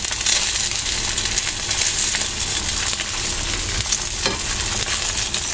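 Pork Spam frying in a pan until golden brown, a steady close sizzle throughout with occasional stirring scrapes.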